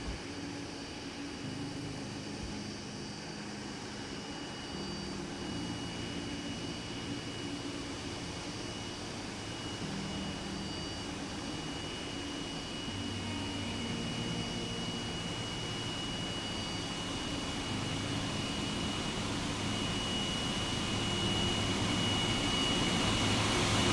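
Boeing 777F jet engines idling and rumbling while taxiing in the X-Plane 11 flight simulator, a steady broadband roar with a constant high whine that slowly grows louder, with no voices.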